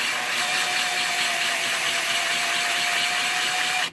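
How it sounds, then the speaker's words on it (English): Power drill running steadily as it cuts through a plastic panel during an oil cooler installation, a continuous motor whine with a faint high tone that holds for about four seconds and then stops abruptly. "Once I've scored the material, I then run the drill in clockwise. That way the teeth can drill through."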